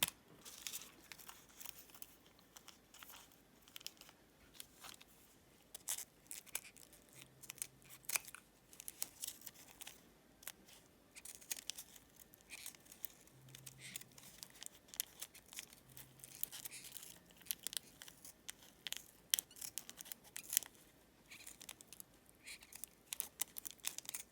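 Scissors snip through fabric while cutting around a shape for a Christmas wreath collage, a close, quiet series of irregular crisp cuts and rustling with faint crinkling, no voices.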